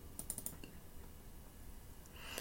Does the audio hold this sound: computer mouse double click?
yes